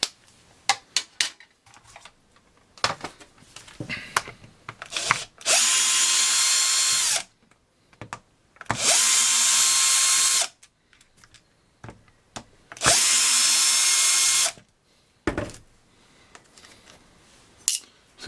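Power screwdriver backing screws out of a ResMed CPAP machine case, three separate whirring bursts of about two seconds each, close and loud, with small clicks and handling noises between them and no talk.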